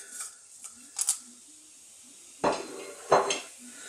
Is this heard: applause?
no